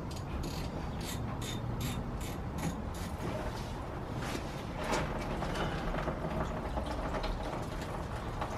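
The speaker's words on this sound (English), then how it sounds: "It's 13mm socket, so I guess it's just going to be a case of cracking that loose." A 13mm socket ratchet works at a car's radiator drain plug during a coolant flush, producing faint, rapid clicking in repeated short bursts under a constant low background noise.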